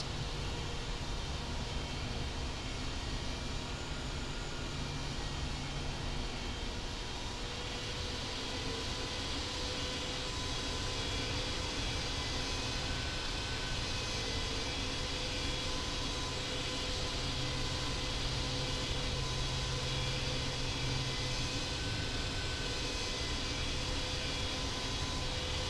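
An airliner taxiing to the runway in the Infinite Flight video game, a steady droning engine hum and broad rushing noise that holds evenly throughout, with faint tonal whines riding over it and no talk.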